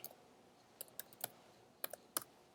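Scattered, faint keystrokes on a computer keyboard while a git command is entered, individual clicks spaced irregularly over a quiet background.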